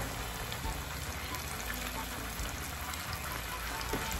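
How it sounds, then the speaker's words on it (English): Floured porgy fish frying in hot oil on a stovetop, a steady, faint sizzling hiss with soft crackles throughout, running unbroken. "let's try to fry our fish."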